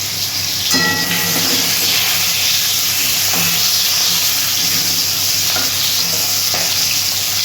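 Singhi fish sizzles steadily in hot oil, a dense crackling hiss that never lets up, with a few brief clinks of stirring and no speech.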